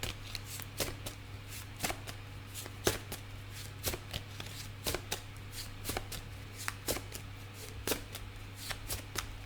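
Tarot cards being shuffled by hand in a steady run of crisp riffles and taps over a constant low hum, with no talking.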